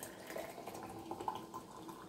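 Hot water pours into jars for a summer salad preserve, a faint, steady splashing trickle with no talk.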